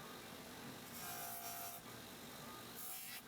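A metal knife guard is worked by a grinder or file, giving a faint, steady rasping scrape with brief higher-pitched squeals in between as the metal is smoothed and rounded.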